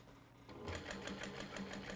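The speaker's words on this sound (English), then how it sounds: "And continue stitching around." A sewing machine stitching around a simple tote bag, starting after a brief pause and then running at a fast steady rhythmic whir, close and alone.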